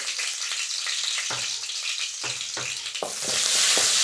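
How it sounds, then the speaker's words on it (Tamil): Crushed garlic frying in a pan for cabbage masala gravy, a continuous sizzle broken by several short scraping stirs, close by, swelling louder toward the end, with no voices. "இந்த மாதிரி நல்லா வதக்கி கூட்டுக்கோங்க பூண்டு வந்து பச்சை வாசம் போகணும்"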